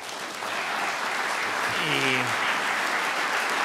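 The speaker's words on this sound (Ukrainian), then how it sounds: "Це вам оплески." Sustained audience applause at an international summit of cities and regions with Zelensky and Stoltenberg, steady clapping filling the hall, with a brief voice tone partway through.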